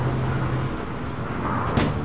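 In the online game APB Reloaded, a car runs over a player character: a steady engine rumble and road noise roll on, then a brief sharp impact bursts out near the end.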